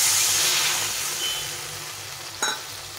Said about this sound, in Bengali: এখন এর মধ্যে দিয়ে দিতে হবে পরিমাণ মতো জল।